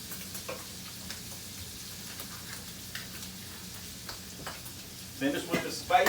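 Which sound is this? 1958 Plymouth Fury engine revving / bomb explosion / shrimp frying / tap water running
shrimp frying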